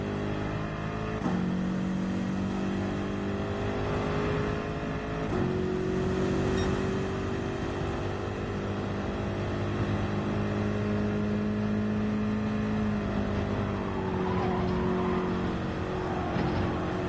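A race car engine in a racing video game holds a steady high rev with a few shifts in pitch, loud and continuous with no talking over it.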